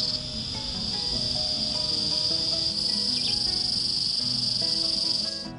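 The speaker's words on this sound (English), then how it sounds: "I couldn't believe how loud it was in the jungle." Loud jungle ambience dominated by a steady, shrill chorus of insects, probably crickets, with scattered faint bird calls and rustling beneath, continuous and dense throughout with no voices.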